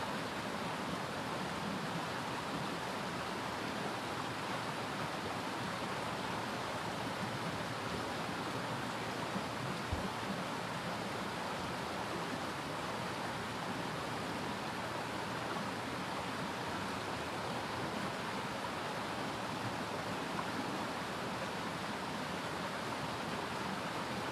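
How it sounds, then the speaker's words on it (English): A river waterfall gives a steady, dense roar of rushing water that holds unchanged throughout, broad and constant, with no voices over it. "Enjoy the waterfall while we can."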